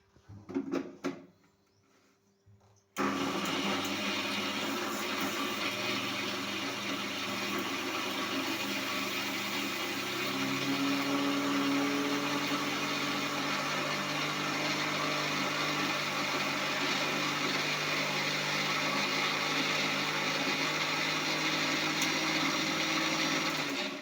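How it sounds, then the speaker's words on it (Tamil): A mixer grinder blending coconut with garlic, rice, roasted gram and chillies starts after a few seconds of quiet, then whirs as a steady, loud, continuous motor drone with a gritty grinding texture to the end. "தேங்காய் இவ்வளவும் போட்டேன். அரைச்சிக்கிட்டதான் நல்லா."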